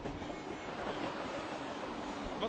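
A train passes through Tanta station with a steady, dense rumble and roar that holds loud and unbroken throughout, close by and with no voices over it.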